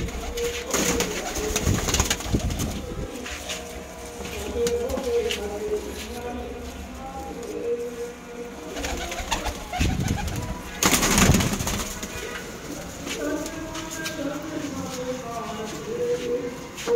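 Low, rounded pigeon coos repeat through the scene from Malwai pigeons for sale, with people talking and moving about nearby over steady background noise.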